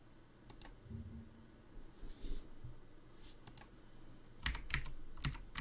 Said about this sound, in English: allegedly it is the noisiest keyboard on the market